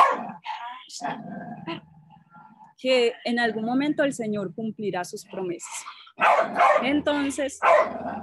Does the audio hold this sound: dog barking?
yes